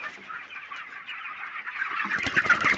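Chickens cluck in a busy, overlapping chatter that grows louder and denser toward the end, with no talking.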